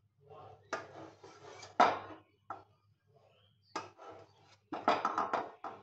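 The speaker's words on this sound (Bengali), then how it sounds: "50 গ্রামের মতো পনির, এটাকে স্লাইস আকারে কেটে নেব" Paneer, about 50 grams, is sliced with a knife on a board in a home kitchen, giving a series of close, crisp cuts and taps in short bursts with brief pauses, no talking.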